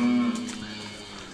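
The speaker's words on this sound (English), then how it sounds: "We've calved a couple of cows over here." Cattle lowing inside a calving shed on a rural farm in France: a single loud, sustained moo up close that fades out after about a second, with faint farm background behind it.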